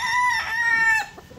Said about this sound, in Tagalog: So yan, mga maliliit na manok.